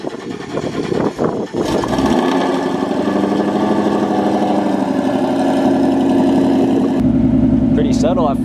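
A Ford Coyote 5.0 V8 fitted with longtube headers cranks over and settles into a steady, loud, rumbling idle that runs continuously, with a brief burst of voices near the start.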